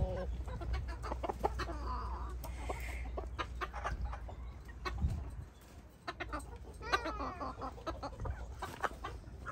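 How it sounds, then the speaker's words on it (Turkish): Hens cluck and squawk restlessly in an enclosed space, a busy overlapping chorus of calls with occasional louder squawks over a steady background hum. "Gördüğünüz gibi tavuklarımız sabırsızlanıyor dışarı çıkmaya."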